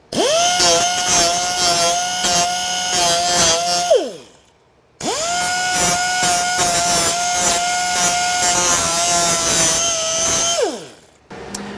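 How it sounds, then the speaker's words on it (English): A power grinder grinds down a bolt on a Jeep JKU Rubicon in two loud, sustained bursts of high whining, each spinning down to silence at the end. "grind down the other areas of this bolt so it's not sharp to the touch"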